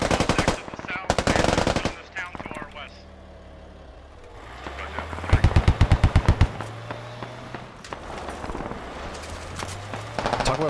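Vehicle-mounted machine gun in the video game Squad Ops fires in loud, rapid bursts, with short quiet gaps between them and voices heard at times.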